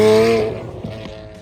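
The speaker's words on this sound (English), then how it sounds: "Bro, this Lambo sounds so crazy." A Lamborghini engine, heard alongside a flame-spitting VeilSide RX7 and a GTR, gives a loud tonal drone that fades and drops away within about a second, leaving quieter engine noise underneath.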